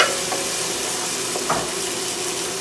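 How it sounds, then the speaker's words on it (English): Onions sautéing in a pan for callaloo and saltfish, an even, close sizzle and hiss with a couple of soft stirring scrapes, no voices. "we just go ahead and saute that until it's translucent"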